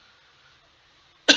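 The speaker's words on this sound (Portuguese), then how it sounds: "eu tô com uma tosse" A single sharp cough bursts out at the very end, close and loud, after a stretch of near silence with faint background hum.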